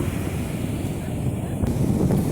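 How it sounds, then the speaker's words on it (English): Wind blowing across Gulf Shores beach in Alabama, a steady low rumbling buffet against the microphone throughout with faint surf-like wash beneath, fairly loud and continuous with no talk. "It's a little breezy. You can hear the wind."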